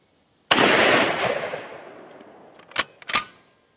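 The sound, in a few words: 458 Lott rifle shot blowing up a melon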